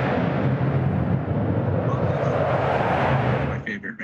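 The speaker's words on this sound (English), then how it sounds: "I think I was hearing jet noise in the background" Jet aircraft roar rumbles in the background as a sustained broadband wash, holding steady before fading near the end.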